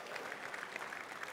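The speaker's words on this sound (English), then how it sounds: "Give him a huge round of applause" A church congregation applauds their pastor in a faint, steady wash of clapping hands heard from a distance, with no voices standing out.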